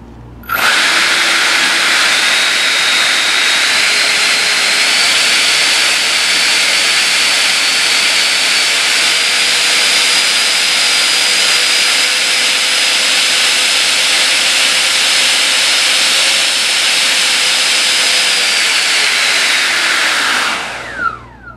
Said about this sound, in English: when she powered up the motor, there was no rattling sounds or anything like that